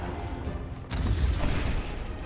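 A cannon blast from pirate ships in the mobile game Cookie Run Kingdom: one sudden loud boom with a low rumbling tail, set over a steady game soundtrack.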